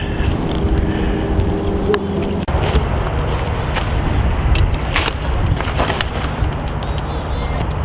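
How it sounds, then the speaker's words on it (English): Wind buffets the microphone in a continuous rough roar on a bridge over a river, with scattered clicks and knocks across the whole stretch. "it's windy as all get out, especially standing up on that bridge"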